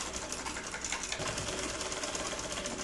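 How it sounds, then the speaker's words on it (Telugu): A sewing machine runs with a steady, continuous whirring drone as a folded edge of a blouse is stitched, close and uninterrupted with no voices. "అందుకోసం నేను ఇక్కడ ఫోల్డ్ చేసి స్టిచ్ వేస్తున్నాను"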